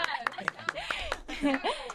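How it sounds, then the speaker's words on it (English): A small group claps for Micah during a casual Q&A session, with sharp, irregular claps spaced through the moment while several voices talk and laugh over them. "Let's give him a clap."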